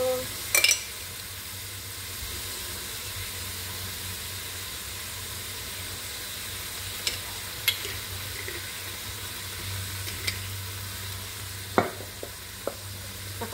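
Fried rice stir-fries in a pan with soy sauce and oyster sauce added, giving a low steady sizzle with occasional sharp clicks of a spatula against the pan.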